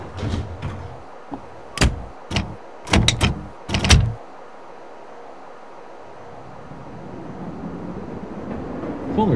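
Chicago Brown Line train doors close at Armitage in the PS3 game Railfan: a quick series of loud mechanical clunks and thumps, then a quiet, steady hum from the train.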